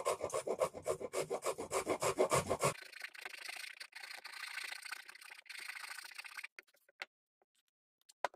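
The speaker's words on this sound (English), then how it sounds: "All right, now just go to work rasping on it." Rhythmic rasp strokes scrape the head of a rusty old claw hammer being restored, fast and close at first, then lighter, scratchier filing that stops with a few final scrapes.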